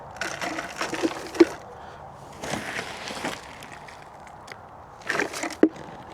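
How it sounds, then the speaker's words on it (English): Potting soil pours and rustles into a container while dwarf conifers are planted, coming in three short bursts of gritty scraping separated by quiet pauses. "So let's get some soil into this."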